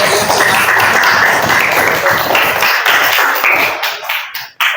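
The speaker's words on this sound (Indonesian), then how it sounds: "tepuk tangan untuk kelompok 4" A classroom of students claps for a group during an Arabic-language lesson at an Indonesian madrasah. The dense, steady applause is loud and close, then thins out and fades toward the end.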